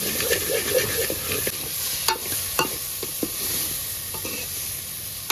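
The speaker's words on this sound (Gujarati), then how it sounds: "લસણની કળીને તેલમાં તળ" Whole garlic cloves frying in hot oil while being stirred, a steady close sizzle broken by several sharp scraping clicks of a spoon against the pan.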